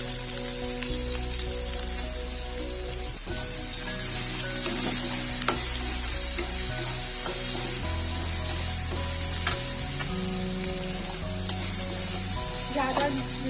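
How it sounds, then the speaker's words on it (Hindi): Onion, garlic and green chili sizzling in a pan with fried nutrela chunks, a continuous bright frying hiss with occasional stirring scrapes and clinks against the pan. "इसमें डालेंगे प्याज, लहसुन और हरी मिर्च। तो हल्का सा भून लेंगे"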